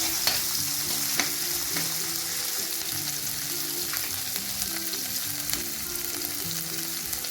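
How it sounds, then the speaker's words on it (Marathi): Ginger sautés in two spoons of hot oil in a pan for mini samosa filling, giving a dense, continuous close-up sizzle with occasional soft scraping strokes and crackles and no talking. "त्याच्यात आपल्याला 2 चमचे तेल टाकायचं. आलं टाकायचं. बऱ्यापैकी परतून घ्यायचं."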